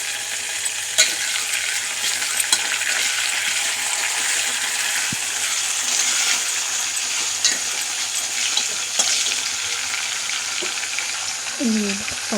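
Green chillies fry in hot tempering oil for a Telangana-style lemon pulihora, giving a steady, close hiss of sizzling with light clicks of stirring throughout.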